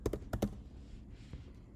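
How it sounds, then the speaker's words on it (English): Typing on a Mac computer keyboard, a quick cluster of four sharp close key taps followed by a single softer tap, quiet with no voices. "So just type Python here."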